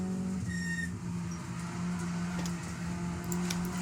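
A Peugeot 208 Cup race car at full throttle on the Dijon-Prenois circuit, its engine droning steadily and loudly with a sustained tonal hum throughout.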